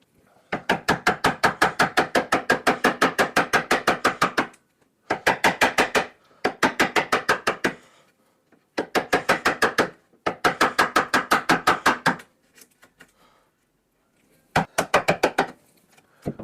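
A chisel is tapped into timber to cut a recess for a door handle, rapid rows of sharp woody knocks in bursts of several seconds, separated by brief pauses, close and clear with no speech.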